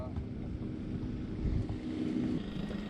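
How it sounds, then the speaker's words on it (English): A lawnmower runs steadily up on land in the distance, a low continuous engine drone heard from a boat out on the water while fishing, blended with wind noise and water sounds. "That's a lawnmower up on land."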